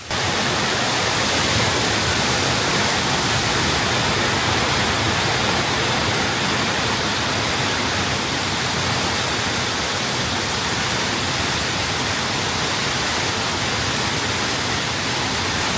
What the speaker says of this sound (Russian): туда, где бурлит скрытая мощь воды